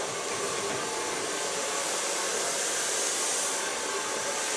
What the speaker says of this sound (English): Blow drying in the neckline.